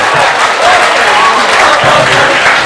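Steady, dense crowd applause from a mushaira audience at an Urdu poetry recital, filling the whole stretch loudly and evenly without a break.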